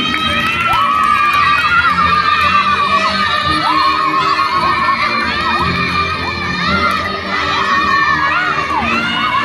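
A crowd of schoolchildren at an anti-bullying ambassador announcement erupts in loud, continuous cheering and high-pitched shouting, with whoops rising and falling throughout, while the clapping itself is buried under the voices.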